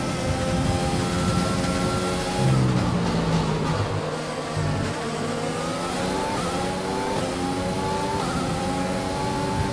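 A Formula 1 car's engine in F1 2020 howls at high revs, its pitch climbing through gear changes on a straight, loud and close with a brief dip before rising again; no talking.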